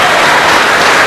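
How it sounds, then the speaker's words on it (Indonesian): Dense, loud applause from a large crowd at a school graduation ceremony, a continuous wash of clapping heard up close without pause. "Tepuk tangan untuk panjenengan semuanya."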